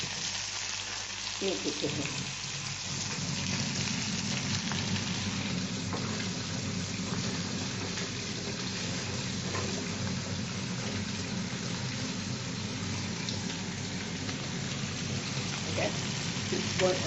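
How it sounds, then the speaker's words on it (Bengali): Small mourala fish frying crisp in plenty of hot oil, a steady dense sizzle and crackle running unbroken throughout, with a brief spoken word near the start. "সব মাছগুলো একটু বেশি তেল দিয়েছি, সব মাছগুলো ভালো করে ভেজে নেব, কুরকুরে করে ভেজে নেব"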